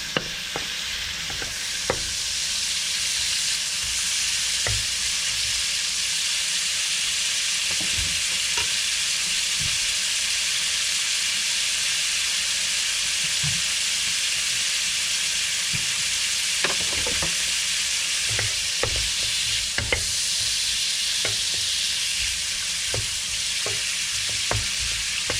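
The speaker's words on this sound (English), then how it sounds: "Getting that all sauteed up." Food stir-fries in an electric wok, a continuous close, even sizzle with scattered sharp clicks and scrapes of stirring across the whole stretch, no voices.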